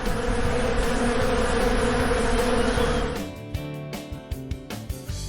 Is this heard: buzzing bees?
yes